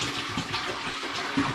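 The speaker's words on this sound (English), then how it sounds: "I'm just going to give the pan a bit of a rinse around with some spring water." Spring water swilled around inside a pan during home brewing of mango and ginger cider, a steady broadband wash of sloshing, splashing liquid with no talking over it.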